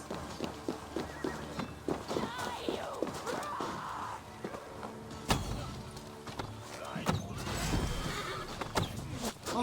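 Horses whinny and gallop in a combat scene during the Siege of Paris in Assassin's Creed Valhalla. Repeated neighs sound over rhythmic hoofbeats and clip-clops, with sharp impacts and faint voices in the background.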